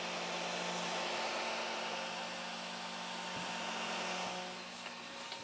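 A small cooling fan and water pump running on a WL Toys K949 RC car with a brushless motor and water-cooled ESC give a steady, loud, close whirring hiss throughout, with no talking.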